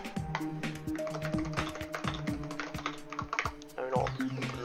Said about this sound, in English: It wouldn't be me typing a comment unless I typed it wrong at least once.